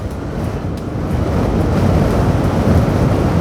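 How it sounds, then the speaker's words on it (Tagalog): Strong wind at a beach resort in Maasim, Sarangani roars steadily into the microphone, a dense low rumble that builds slightly and holds, with no voices. "Malakas na yung hangin dito."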